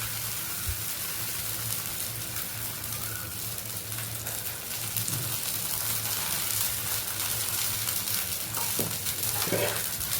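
Set dosa batter fries on a hot tawa, giving a steady, close sizzle with soft crackling that holds evenly throughout, with no talking.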